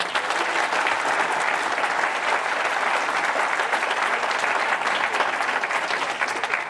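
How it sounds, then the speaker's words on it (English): A large audience at the 2023 CBIC awards gala applauds a performer, a dense, steady wash of clapping that holds at full strength from start to finish with no voices over it. "Round of applause for Craig and his humor."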